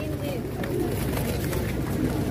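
Pigeons cooing at a busy pigeon market in Tongi, with soft low coos blending into a steady crowd murmur and nearby talk.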